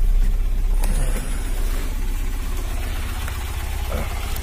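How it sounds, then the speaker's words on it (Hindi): A Tata Nano car's engine idles with a steady low, even rumble close by, holding a constant drone throughout. "गाड़ी को अभी 5-10 मिनट ऐसे ऑन करके रखना है"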